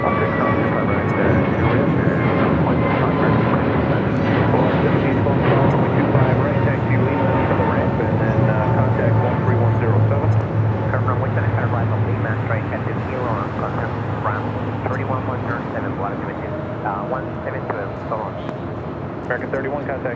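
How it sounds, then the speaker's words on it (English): An American Airlines airliner bound for Honolulu takes off at LAX with a loud, sustained engine roar that slowly fades, while air traffic control radio voices talk over it. "Flight 31 now taking off"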